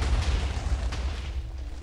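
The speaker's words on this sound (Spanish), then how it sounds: "Estos fuegos artificiales a mí me vale" Minecraft fireworks burst in a dull, boomy rumble that carries through the whole stretch without a break, loud and low, with no talk over it.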